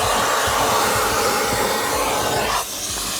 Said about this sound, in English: and we'll follow along with the vacuum cleaner